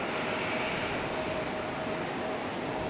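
A Frontier Airbus A320-200 lands at Raleigh-Durham airport, a steady loud broadband jet roar with a faint whine held for a few seconds without pause.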